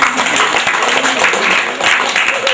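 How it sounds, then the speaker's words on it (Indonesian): Congregation at a church wedding ceremony giving loud, continuous applause, many hands clapping close by in a thick, even wash without pause. "Haleluya, tepuk tangan semua."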